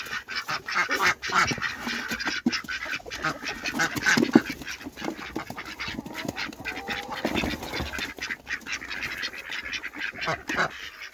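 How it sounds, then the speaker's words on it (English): Backyard homestead ducks quack continuously and close by, a busy, overlapping chorus. A voice can be heard faintly now and then under the noise. "Hi, duckies!"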